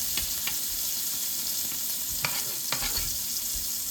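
Steak frying in a pan with butter and garlic, a steady close sizzle with scattered pops and crackles and brief stirring clicks, no talk.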